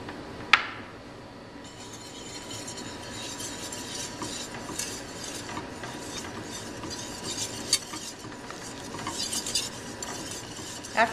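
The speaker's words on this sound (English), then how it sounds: "We're going to cook that for the roux and then add our milk." A spoon stirs a roux of three tablespoons of butter and three of flour cooking in a pan for white sauce. The steady scraping runs throughout, with a soft sizzle and an occasional clink of utensil against pan.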